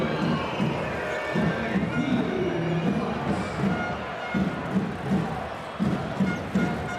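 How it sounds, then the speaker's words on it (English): A basketball arena crowd at a FIBA World Cup game between the Netherlands and Latvia keeps up a loud, continuous murmur of displeasure after a referee's call, with scattered shouts and thumps throughout. "Crowd don't like the call."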